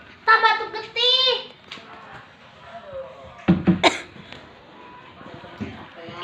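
A child fakes a bout of coughing as a prank, pretending to cough up blood. A few short, harsh coughs burst out among children's voices and quieter rustling.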